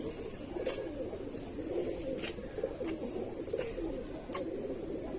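Kasni pigeons coo softly and continuously at close range in a loft, their low throaty murmurs overlapping with no speech.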